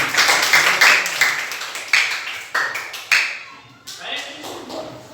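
Students clap in an Indonesian university classroom to honour group 4: a run of sharp, uneven hand claps rises and fades over about five seconds, some hits louder and closer than others.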